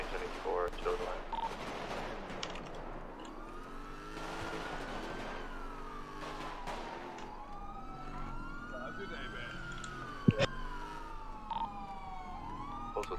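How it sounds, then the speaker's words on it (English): Gunfire in a police roleplay video game, sharp shots ringing out in the distance while wailing emergency sirens sweep up and down, with a loud crack near the end and voices over the scene. "Shots fired around postal 2026"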